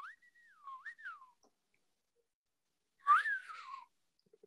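Someone whistles to call dogs, giving a bright sliding whistle that climbs at its end, then a short pause and a louder second whistle, sliding down in pitch, close in a quiet room.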